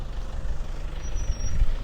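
Vehicles driving along the road toward Petra in Wadi Musa, Jordan, a continuous low engine rumble with a faint high hiss, moderately loud, with no talk.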